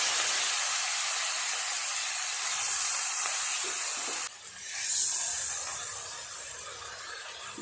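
Pieces of katla fish belly hit hot mustard oil in a pan with kalonji and green chillies, giving a loud continuous hiss that drops sharply midway and then swells again into steady sizzling.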